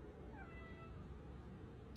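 A cat meows in a short, close call outdoors near a beach, with faint harmonic rising cries over steady low background noise.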